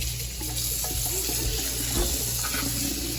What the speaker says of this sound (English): So now we basically are going to put them in the strainer here and rinse them off.